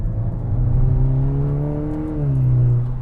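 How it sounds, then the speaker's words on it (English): A Volkswagen Golf R turbocharged engine tuned to 380 hp revs steadily upward toward redline, a smooth rising drone with a whirring turbo note, loud and close with no talking. "it feels like it pulls right to redline, which is phenomenal"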